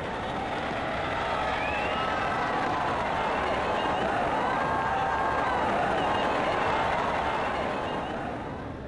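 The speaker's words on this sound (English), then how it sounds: "The crowd are really disappointed." A disappointed stadium crowd in the cricket video game Brian Lara Cricket 99 gives off a sustained, swelling murmur and groan of many voices, steady and dense across the whole stretch.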